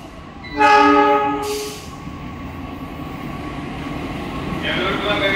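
At a busy Jakarta station at night, a train horn sounds loudly and briefly, followed by a hiss and the low rumble of the Bima passenger train at the platform, with another tone near the end.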